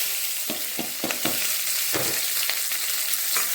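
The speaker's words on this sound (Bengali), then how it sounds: "পেঁয়াজটা এখন ভালো করে ভেজে নেব।" Chopped onions frying in hot mustard oil with bay leaf, dried chilli and cumin, a steady close sizzle broken by regular scraping stirs of a spatula, with no voices.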